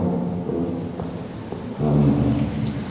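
An audience at a mandolin orchestra concert in Brežice imitates thunder with their voices and bodies, a rumbling, rolling group noise that swells louder near the end.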